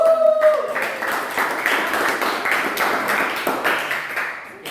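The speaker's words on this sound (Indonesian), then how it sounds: "Silakan berikan tepuk tangan untuk" Audience members clap together in a university classroom session in Makassar, a short ragged burst of applause following a tone at the start and fading slightly toward the end.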